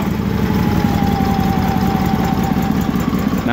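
A small engine that has sat since morning, idling on choke with a steady, even rumble and a faint whining tone running through it, continuous and close.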